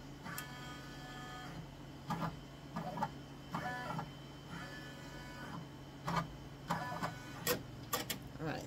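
A Brother PR600 embroidery machine traces its design outline, with repeated motor whirs and stepping bursts spaced a second or so apart, close and moderately loud over a low steady hum.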